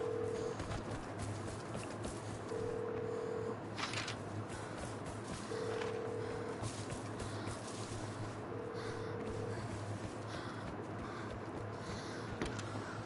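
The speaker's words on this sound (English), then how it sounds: "I am gonna ring this phone, though." A telephone rings in a regular repeating cadence, four short ring bursts spaced evenly, faint and distant beneath steady background noise.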